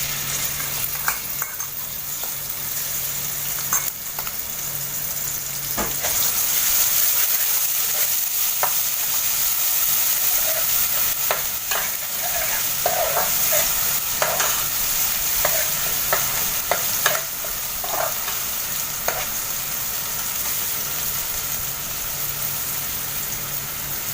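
An onion sizzles in Egyptian samna baladi ghee, a steady bright hiss of frying with occasional stirring clatters and pops, close and loud, no voices.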